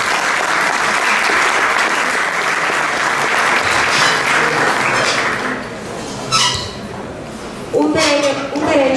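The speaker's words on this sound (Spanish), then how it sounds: "que de igual manera la recibimos con un fuerte aplauso" An audience applauds warmly for a lawyer at a formal event, with loud clapping that fades partway through, followed by voices, including a child's, and a brief dog bark.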